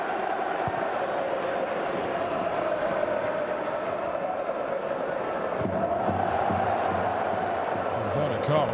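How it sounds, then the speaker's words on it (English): A large stadium crowd at a Real Madrid versus Barcelona El Clasico football match in 2006 keeps up a steady roar and chant, constant and distant-sounding throughout. "The crowd have been extraordinary here tonight. They're like the 12th man on the pitch for Real Madrid."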